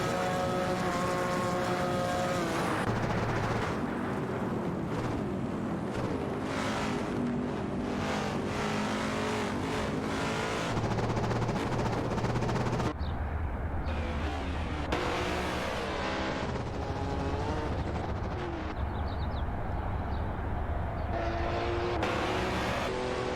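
Race cars in a video game, including a Cheetah GT and a Ferrari 365 GTB Daytona, roar continuously with overlapping engine drones that rise and fall through gear changes, loud and steady throughout.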